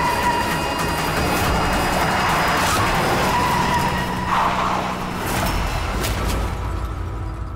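Car speeding and skidding with a sustained tire screech, steady and loud throughout, with no voices.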